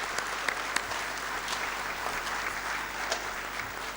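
A crowd claps steadily in sustained applause, a fairly soft, even patter with a few sharper individual claps standing out.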